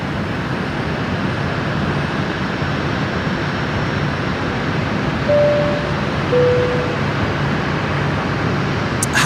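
An aircraft engine at Brisbane Airport at night produces a continuous broad, steady roar that stays close and loud throughout with no voices, with a couple of faint brief tones over it.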